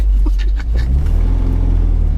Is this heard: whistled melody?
no